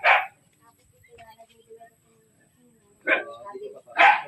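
A dog barks a few sharp times at a house where someone has moved in, with one bark at the start and a close pair near the end, faint voices between.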